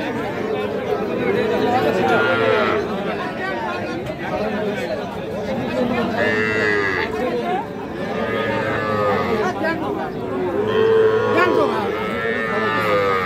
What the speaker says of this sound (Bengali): বকনা শাহিওয়ালের বকনা।